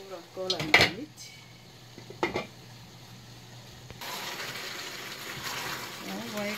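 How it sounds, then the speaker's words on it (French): A metal lid is set back onto a cooking pot of simmering rice for pork curry stew, giving a couple of sharp clanks close by, followed by a quiet, steady simmering hiss. "Je recouvre encore la marmite."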